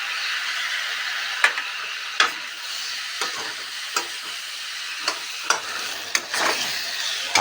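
Drumsticks and mushrooms fry with ground spices, salt and colour powder in a pan, a steady close sizzle broken by several sharp stirring scrapes and clinks at irregular intervals, with no voices.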